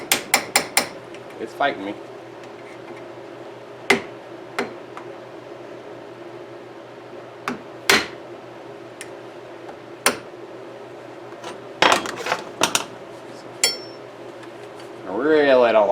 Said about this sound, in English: let's take this screwdriver, tap down on it.